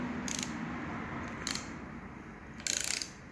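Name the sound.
angle wrench tightening on BMW R69S motorcycle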